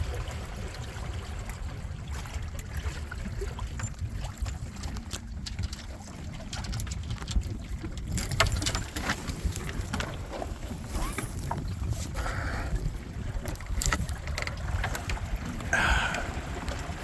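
An Expandacraft outrigger canoe sails and tacks on the Gulf of Mexico, steady water wash and wind buffeting the microphone close by, with faint splashes and creaks over continuous rushing noise.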